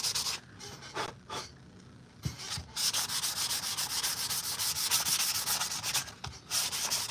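A Kal Skirata armor prop is sanded by hand, sandpaper scraping in quick back-and-forth rubbing strokes close up, with brief pauses between bursts and no talk.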